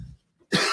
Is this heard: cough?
yes